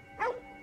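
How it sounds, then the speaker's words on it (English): A dog barks once in the video game Ghostwire: Tokyo, a single short, faint bark over quiet background ambience. "What's he barking at?"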